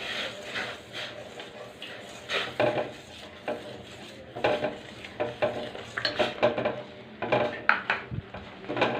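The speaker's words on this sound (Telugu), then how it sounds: "ఇప్పుడు రవ్వ వేసుకుని కలుపుకున్నాము." Semolina being stirred into boiling water seasoned with ginger, green chilli, cumin and salt in a pan, with a spoon scraping and clinking against the metal in an irregular series of close, moderate strokes.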